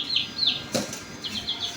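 Two young desi chicks flap their wings inside a cage as it is lifted, giving a few short, close fluttering bursts, with faint chirps between them and no talk.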